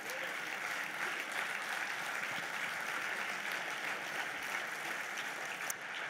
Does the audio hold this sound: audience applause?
yes